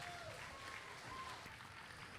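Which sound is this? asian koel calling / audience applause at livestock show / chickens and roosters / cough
audience applause at livestock show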